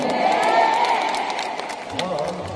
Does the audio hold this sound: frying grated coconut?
no